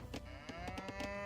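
A person's voice imitates a cow mooing, a drawn-out, faint, tonal low call set against soft, rhythmic background sounds from an Age of Empires match.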